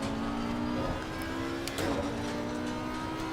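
A race car engine drones steadily in Assetto Corsa Competizione, with a Maserati GT4 or Audi R8 racing in a GT4 series. The steady, fairly quiet engine noise has small pitch shifts as the car shifts gear or revs, and no one talks.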